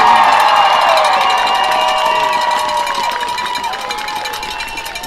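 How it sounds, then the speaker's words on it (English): A stadium crowd cheers and whoops for the 2021 state champion high school football team, loud shouting voices swelling at first then gradually fading. "give a round of applause for your 2021 I8FA state champion, the Polo Marcos"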